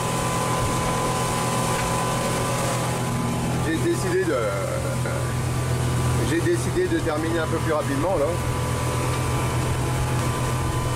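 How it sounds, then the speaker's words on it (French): Sailboat engine pushed harder at sea on a passage along the coast toward l'Espiguette, a steady droning hum running the whole time beneath a voice speaking French. "Je dégomme un petit peu le moteur, ça lui fait du bien."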